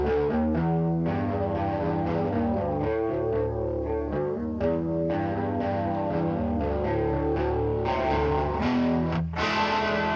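A guitar played through a chorus effect, producing a shimmering, watery chorded sound that rings out steadily and loudly for the whole stretch, with a brief dropout near the end and no talking.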